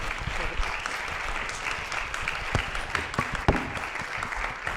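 Audience applause after a conversation event with poet Kevin Young, a steady broad wash of clapping with a few sharper louder claps standing out near the end, no voices on top.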